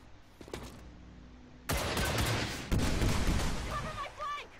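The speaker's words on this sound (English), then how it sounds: "he just fired a bunch of rockets and they did exactly no damage to any of my troops" Rockets fired by an enemy in the video game XCOM 2: after a quiet lead-in, a loud sustained barrage of blasts and rumbling bursts follows in two waves, with a voice briefly audible near the end.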